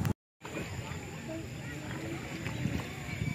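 A small rowing boat moves across open water while an elderly man who has rowed for decades works the oars, steady water and wind noise filling the scene under nearby talk.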